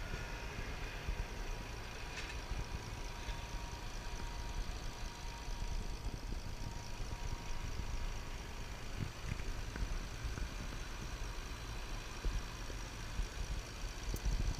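A Bentley Continental GTC idles after a cold start, a steady low engine hum held evenly for the whole stretch with no revving and no voices.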